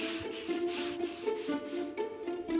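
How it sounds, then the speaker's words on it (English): Hand sanding in an old, long-neglected building being renovated: a close, rhythmic rasp of back-and-forth strokes repeating roughly twice a second, with no voices. "While Stefan continues his sanding marathon"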